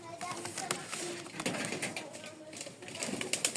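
Rajshahi Giribaz pigeons in a loft, soft cooing and wing shuffles coming in short bursts over a low background, with a person talking nearby at times.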